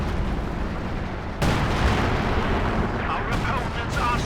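A major artillery barrage in the video game Company of Heroes 2 produces a dense, continuous rumble of explosions and booms, loud and sustained, under a commentator's voice.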